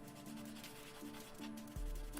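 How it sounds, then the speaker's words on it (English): Nubs on a blue plastic model kit part are sanded by hand in short, quiet scraping strokes, a faint rubbing rasp repeated several times with small gaps, with no talking. "They pretty easily go away with sanding"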